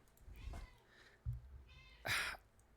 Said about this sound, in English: Some meowing.